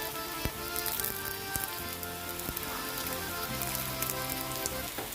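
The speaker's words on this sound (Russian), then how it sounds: "Жарим с двух сторон, без крышки, до золотистой корочки." Chechen corn flour flatbreads fry uncovered in a pan with a soft, steady sizzle. Faint crackles and pops come through, along with quiet background hum and clinks.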